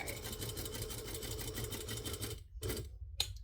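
A sewing machine stitches a zipper in a steady, fast mechanical whir, then stops briefly and runs in two short bursts as it reverses back over the first stitches.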